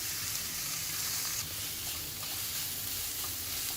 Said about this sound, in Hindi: हमारी सब्जी थोड़ी सी पकने लग रही है